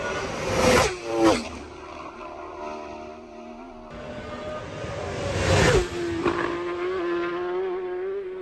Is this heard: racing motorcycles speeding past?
yes